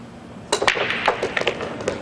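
A pool break shot at a world championship quarterfinal, with a sharp crack followed by a quick scatter of ball-on-ball clacks and clicks over about a second and a half, against quiet hall ambience.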